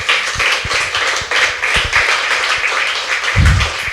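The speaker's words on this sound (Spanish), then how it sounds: "Dile un aplauso a Dios," A church congregation applauding together during a worship service, a dense steady wash of clapping with scattered sharper hand claps throughout.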